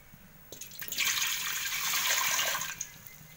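Water is poured into a cooking pot for boiling while making badam pisin payasam, a rushing splash that starts abruptly, holds steady for about two seconds, then tapers off.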